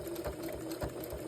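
Sewing machine back stitching on a jelly roll trivet made from pajama fabric, a close, continuous motor hum with rapid rhythmic needle thumps and no talking.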